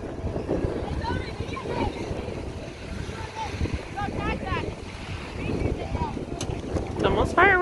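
Strong wind buffets the microphone at a campsite at Elephant Butte, a continuous rushing roar that runs throughout while people talk over it.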